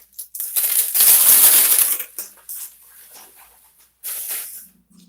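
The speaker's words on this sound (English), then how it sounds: "So we're going to unwrap it for the first time together." Plastic wrapping being unwrapped from a newly delivered bottle of yellow paint, heard as loud crinkling and crackling bursts with a pause in the middle and a shorter crinkle near the end.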